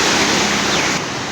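Water churns and boils at Taunsa Barrage, a dense, loud, continuous roar of rushing water heard up close with no break and no talking.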